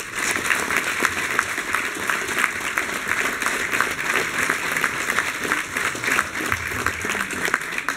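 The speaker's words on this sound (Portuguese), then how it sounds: "peço uma grande salva de palmas" Sustained, evenly dense applause from a crowd at an anniversary gathering of a regional association, many hands clapping together at a steady level for the whole stretch.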